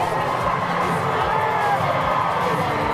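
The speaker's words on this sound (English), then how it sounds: "Fans, he's got a shot. Cheer him on as he comes home." Baseball fans at an Indianapolis Clowns versus Firefighters game in Montgomery, Alabama cheer as a runner heads for home plate. The crowd roar is steady and fairly loud, with scattered shouts mixed in.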